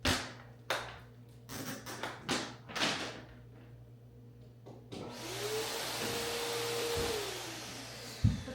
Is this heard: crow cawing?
no